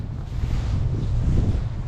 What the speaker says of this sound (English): It's a little bit windy, a little bit cold.